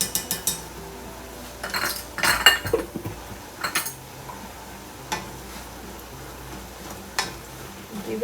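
Stir fry of tofu, asparagus and vegetables with chili garlic sauce being mixed in a pan, a utensil clattering and scraping against the metal in irregular bursts, close and fairly loud, with no talking.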